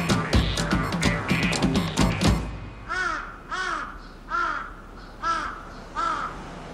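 Crows call with five loud, evenly spaced caws, each harsh and drawn out, following a brief stretch of busier, clattering noise at the start.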